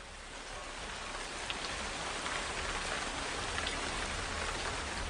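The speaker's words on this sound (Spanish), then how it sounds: "Lo que parecía una lluvia atípica de aquella temporada, de un momento a otro se convirtió en una tormenta impresionante" Heavy storm rain pours steadily and densely, a continuous close broadband hiss of downpour on surfaces with no pauses and no voices.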